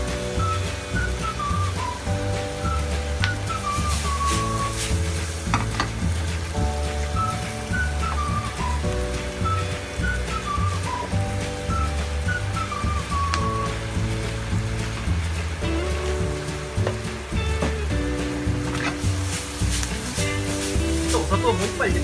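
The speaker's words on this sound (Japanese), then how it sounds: "ちょっと詰めるような感じで炒めちゃってください" Chicken gizzards stir-frying in a pan with black pepper, a steady sizzle over music with whistle-like melodic tones throughout.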